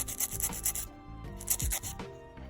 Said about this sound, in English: I'll file the sides just a little bit with my file